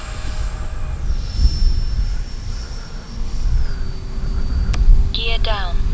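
A Freewing A-6 Intruder 80mm electric ducted-fan RC jet flying overhead, a thin high whine shifting in pitch as it passes, faint over outdoor wind noise, with a person talking nearby.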